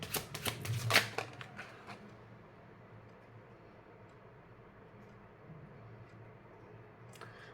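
A quick burst of tarot cards being shuffled during a love reading, a cluster of close papery riffles in the first second or two, then a long stretch of quiet room tone.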